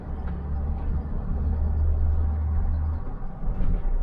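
A cheap 1.3-litre car driving along in fourth gear with a worn tensioner bearing or auxiliary belt, a steady low engine and road rumble filling the cabin throughout.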